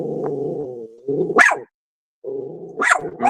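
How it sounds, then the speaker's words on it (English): A dog down the street barks several times, loud sharp barks with lower growling tones between them and a short silent gap in the middle. "Now you got the dog down the street barking."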